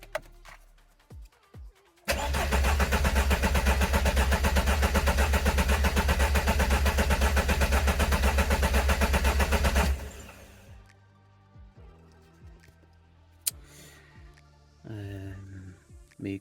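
A car engine after a coolant purge cranks and catches, roaring loudly and steadily for about eight seconds, then drops to a quieter idle with scattered clicks and clunks.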